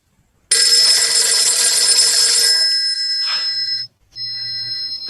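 An old telephone bell rings loudly and continuously for a few seconds, then halts briefly before a fainter ringing tone resumes, with no talking over it.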